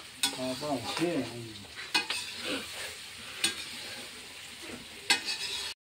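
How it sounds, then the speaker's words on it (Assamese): Half-cooked duck meat fries in a pan at home, sizzling close by while a utensil stirs and scrapes it in repeated rhythmic strokes, with no one speaking. "ভাজি আছে এতিয়া।"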